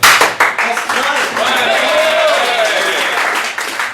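Audience applause rings out at an evening debate event, a dense sustained clatter of many hands filling the room, with a voice briefly heard at the start.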